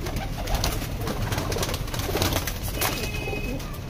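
Top-quality pigeons of the Teddy, Golden, Prince Golden and Madrasi breeds cooing close by, a dense, continuous chorus of throaty, rolling coos with no voices over it.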